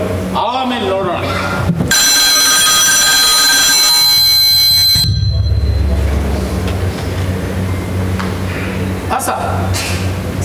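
During a stage drama, a telephone rings loudly with a bright, sustained bell-like trill for about three seconds, followed by low rumble and faint voices.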